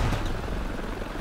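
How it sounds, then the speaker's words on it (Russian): Helicopters flying in the video game Ravenfield (beta 5) give a steady, loud rotor drone with low thumping that fills the short stretch on its own. "вертолет, вертолеты летают"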